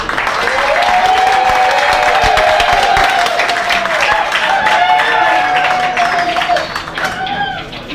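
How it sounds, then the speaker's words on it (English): Loud, continuous applause from an audience greeting the performers at a live magic show, with a sustained whistle-like tone running across it before the clapping thins out near the end. "Let's give a round of applause for our performers as we get the show underway."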